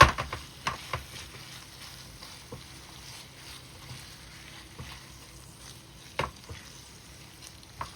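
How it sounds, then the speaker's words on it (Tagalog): Marinated ground pork sautéing in a pan, a soft steady sizzle with occasional spatula taps and stirring scrapes, close but faint, with no talk. "Saute for a few minutes."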